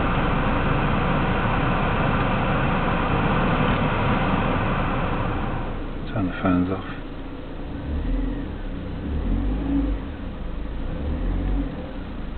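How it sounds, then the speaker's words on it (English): A 2010 Vauxhall Astra engine idles and is revved up and down, a steady mid-range engine drone that shifts in pitch partway through, with a voice speaking briefly over it. "that's revving the engine up and down nicely"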